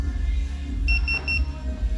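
A car alarm being disarmed gives three short, evenly spaced high beeps over a steady low engine rumble, close by.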